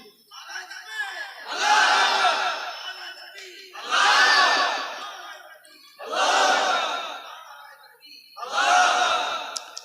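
A crowd at a religious gathering shouts the takbir in unison, four loud swelling calls spaced a couple of seconds apart, each rising and fading as one mass of voices.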